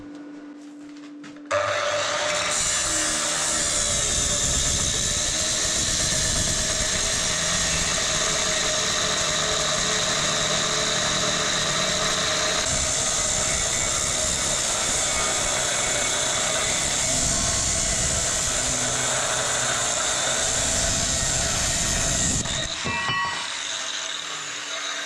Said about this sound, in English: Whenever the big disc falls down, I just kind of swap it over to the small grinder.